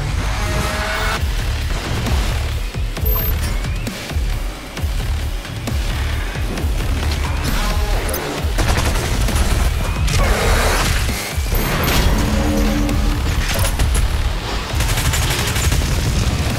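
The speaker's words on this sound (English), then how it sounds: "these micro missiles were a good investment" Micro missiles fire in DOOM Eternal amid dense combat, a loud, continuous barrage of rapid blasts and booms with crashing impacts and whooshes, no voices.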